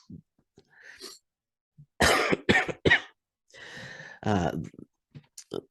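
A few sharp, close coughs in quick bursts, with a small throat noise before them, then quiet between.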